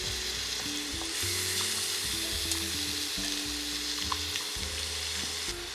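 Chicken pieces sizzle skin side down in a hot pan, a steady loud frying hiss with crackles and pops that runs unbroken and close throughout, with no talking over it.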